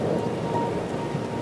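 Steady heavy rain pours down during a thunderstorm, a dense continuous wash of drops with a low rumble of thunder underneath, with no voices.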